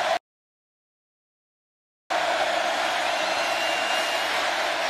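Dense, steady crowd roar filling a packed Kyle Field stadium during a college football game between Texas A&M and Clemson, heard after a brief silent gap and continuing loud and unbroken without distinct cheers.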